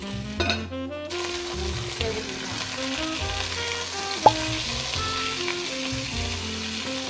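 Sausage browning in a pan for gluten-free lasagna sizzles steadily and close up, with a loud clack of the pan or utensil partway through and a brief burst of stirring near the start.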